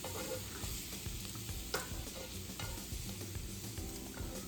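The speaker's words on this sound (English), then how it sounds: "let's take our slotted spoon and add our big jumbo shrimp" Big jumbo shrimp are stirred into a simmering seafood gumbo pot, with a steady bubbling sizzle under repeated clinks and scrapes of a slotted spoon against the pot.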